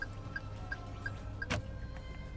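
A soft electronic chime from a Daihatsu Xenia 1.3 R CVT dashboard buzzer beeps repeatedly at a steady, quick rhythm, faint under a low engine-like hum, with one brief click partway.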